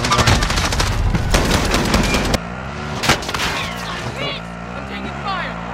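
Rapid automatic gunfire in the Call of Duty Warzone video game, a loud dense burst that cuts off, followed by a single heavier shot and quieter battle noise.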